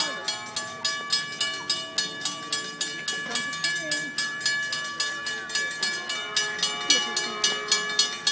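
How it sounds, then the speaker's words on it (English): A passenger train pulls into the San Juan Capistrano station, loud and close, with a rhythmic metallic clatter that repeats about every third of a second and a sustained bright tone above it. Excited voices can be heard faintly. "We're right in front of the train. Here it comes."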